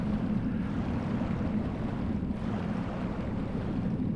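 Underwater swimming in Tomb Raider: Anniversary, a steady muffled rush of water with low rumbling and no distinct strokes, close and continuous, without talk.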